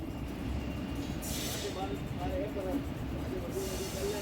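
A short passenger train run from SBT Junction to ADI Junction, hauled as ICF coaches on trains 22353 and 19224, rumbles on with a steady low roar and hiss, with brief brighter whooshes and faint tonal squeals over the running noise.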